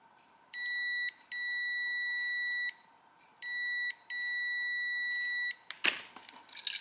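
A handheld electrical tester used to check a light switch emits high electronic beeps in two pairs of long tones with short gaps, loud and close, followed by a few clicks and handling noise.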